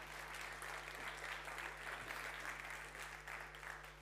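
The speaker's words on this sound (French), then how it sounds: "Applaudissements pour le président, s'il vous plaît." Audience applause for the president at a ceremony on a theatre stage, continuous clapping that sounds distant and faint over a steady low electrical hum.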